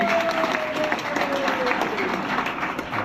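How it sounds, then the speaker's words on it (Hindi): A seminar audience claps for a senior guest, dense steady applause filling the room throughout at even loudness. "हमारे ग्रेट सीनियर मिस्टर कुणाल जी के लिए जोरदार ताली होनी चाहिए।"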